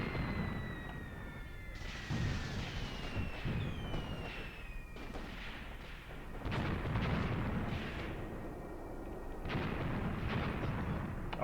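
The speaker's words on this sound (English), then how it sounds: "Our mortars have opened up," Mortar fire in the tank war game Graviteam Tactics, with repeated heavy booms and blasts rolling over one another in a dense, continuous battle din, and some faint whistling tones in the background.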